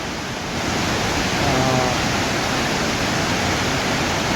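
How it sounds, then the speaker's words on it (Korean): Victoria Falls in Zimbabwe roars steadily, a dense, unbroken rush of pouring water that fills the whole scene, loud and constant throughout. "물안개가 피어오르고 폭포가 정말 땅을 뚫을 듯이 이렇게 쏟아집니다."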